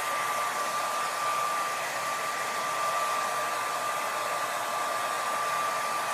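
A hair dryer blows on short natural hair with a steady, loud, continuous whoosh and a constant whine, running alone and unbroken throughout.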